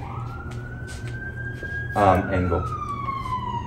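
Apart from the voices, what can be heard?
passing ambulance siren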